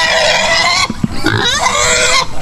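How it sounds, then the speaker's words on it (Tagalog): Free-range pigs oinking and grunting up close, a loud run of nasal squeals and grunts with short snorts in the middle and no one speaking. "Ayan yung mga baboy."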